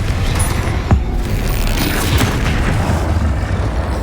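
A Confringo blasting spell explodes in Hogwarts Legacy with a sharp boom near one second, set against a dense, continuous rumble of game combat.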